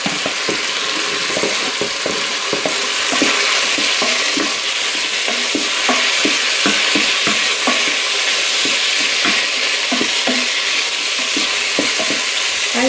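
Onion and garlic fry in a Cosori pressure cooker, a steady loud sizzle broken by repeated scraping clicks of stirring throughout, with no talking.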